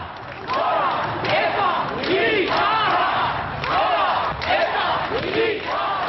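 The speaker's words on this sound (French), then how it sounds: "la foule." A large crowd on a 1984 funeral procession route in the Basque Country shouts and chants slogans in loud, rhythmic unison bursts that swell and repeat over a continuous roar of voices.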